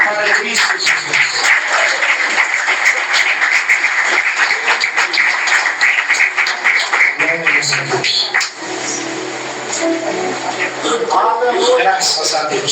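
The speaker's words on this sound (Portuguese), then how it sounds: "Nós podemos dar uma linda salva de palmas para Cristo Jesus." Church congregation at a family worship service in Minas Gerais applauding together, a dense, steady wash of clapping filling the room, with a brief dip before resuming near the end.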